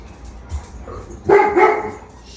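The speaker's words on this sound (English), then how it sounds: "The dogs are hoping to get some scraps." Dogs bark in a kitchen where sturgeon is being baked with Dungeness crab, a short burst of several close, loud barks after a quiet moment, alone without talk.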